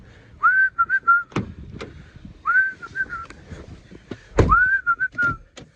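A person whistles a short rising-then-level melodic phrase three times, with soft knocks and handling noises between the phrases, close and clear.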